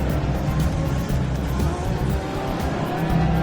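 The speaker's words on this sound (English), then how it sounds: "There go the three Peugeots, followed by one of the Audis." Peugeot and Audi prototype race cars pass at Le Mans 24 Hours, a steady, fairly loud engine rumble with gentle swells as the cars go by.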